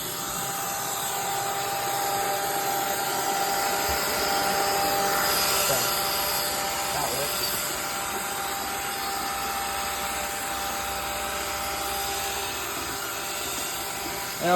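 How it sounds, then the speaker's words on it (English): A 2003 iRobot Roomba Pro Elite robot vacuum runs with a steady, fairly loud whirring hiss of motor and brushes, continuous and close, with no talk. "overall, it is kind of noisy, but for a 2003 robot vacuum, it's okay"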